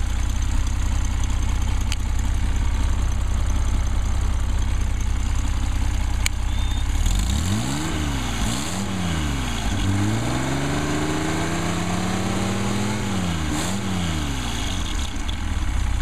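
A car engine fitted with a dual glass-pack exhaust idles with a steady low rumble, then from about midway is blipped through several rising and falling revs, close by with no speech.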